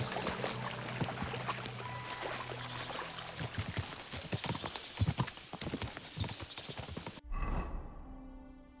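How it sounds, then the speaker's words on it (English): Horses gallop in Kingdom Come Deliverance II with rapid, rhythmic clip-clop hoofbeats over a rushing wash of noise, fairly loud and close. The hoofbeats break off abruptly near the end into a brief burst and quieter tones. "we'll give the horses a gallop again."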